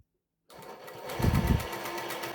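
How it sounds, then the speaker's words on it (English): A sewing machine runs a zigzag stitch along a fabric seam to finish the edge. After half a second of silence it starts and whirs steadily and closely, with a rapid stitching rhythm, and no voices. "we just run a zigzag stitch all the way along the seam"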